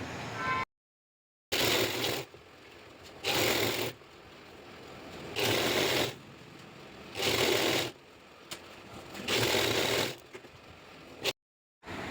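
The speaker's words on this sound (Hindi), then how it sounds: "अब इसे बाहर की तरफ से सिलाई लगाएंगे" A sewing machine stitches a fabric shopping bag with a zipper and pocket, running in loud close bursts of a second or two separated by short pauses and two brief silent gaps, with no voices.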